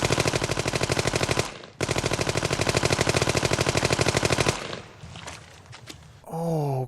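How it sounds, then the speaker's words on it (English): Sustained automatic gunfire as soldiers shoot prisoners in a Band of Brothers war scene, loud rapid bursts running several seconds with a short break, then fading into scattered shots and a low rumbling tone. "Shoot, just blasted all the prisoners right there."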